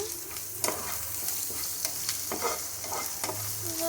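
Spoon stirring crab curry with chilli powder and salt in a frying pan, scraping strokes repeating over a steady hot sizzle, close up, with no voices.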